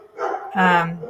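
Dogs bark near the microphone, a couple of quick sharp yips running into a longer bark within about a second.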